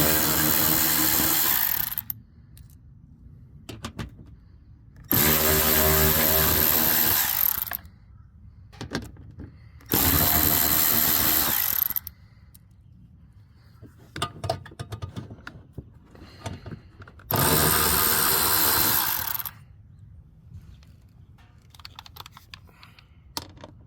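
A power drill removes bolts while mud flaps are installed on a 2023 Toyota Tundra. Four loud, roughly two-second whirring bursts are separated by pauses filled with light clicks and handling noises, and no one speaks.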